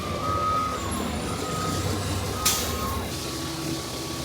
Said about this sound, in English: It's like every little kid's dream to get to drive their own dump truck to the quarry